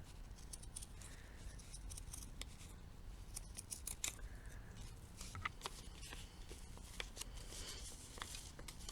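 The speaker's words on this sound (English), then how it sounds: "So I'm just going to go around and just cut the little hat out." Scissors snipping a small hat shape out of craft material in a garage, a quiet run of close, crisp cuts in uneven clusters with no talking.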